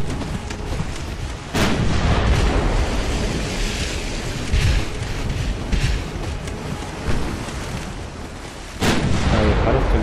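Heavy naval guns boom in a battleship strategy game, Ultimate Admiral Dreadnoughts, with sharp loud blasts near 1.5 and 9 seconds over a constant rumble of sea and wind.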